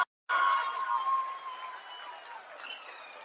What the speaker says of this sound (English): People are applauding.